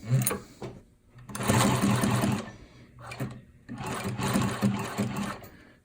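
A sewing machine stitches through adjustable material in short bursts, whirring loud for a second or so and then pausing while the needle stays down for a turn, with several runs back to back and no talking.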